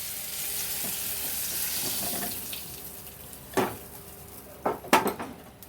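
Cooked potatoes tip into a pan of soybean curry on a switched-off stove, starting with a soft watery hiss and then a few sharp wet splats and clatters near the end, close by with no talk.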